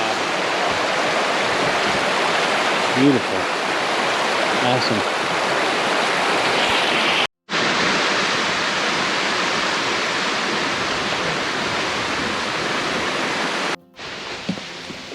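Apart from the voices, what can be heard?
Hurricane Creek rushing water at Pictured Rocks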